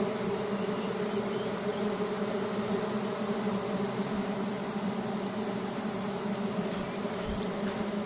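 Bees at a smoked nest deep in the forest make a dense, steady swarm buzz all around, loud and continuous with no voices.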